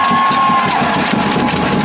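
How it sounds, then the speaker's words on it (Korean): A baseball stadium crowd applauds and cheers for LG player Hong Chang-ki during a post-game interview after game four against Kia, making a loud, continuous roar of clapping and voices. "홍창기 선수 박수 한번 보내주세요"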